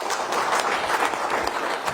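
Steady applause from a seated audience at a business seminar, a dense continuous patter of many hands clapping at moderate volume with no talking.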